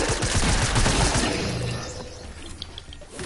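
Rapid video game gunfire, a dense close fusillade of shots that thins out over a few seconds into scattered sharp cracks.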